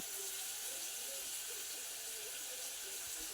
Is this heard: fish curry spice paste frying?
yes